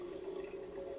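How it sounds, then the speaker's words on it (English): Thin, steady stream of hot water running from the showerhead of a Bonavita BV1900 drip coffee brewer, a constant faint trickle with a sustained tonal hiss and no pauses. "there's such, I should say, so little water coming out"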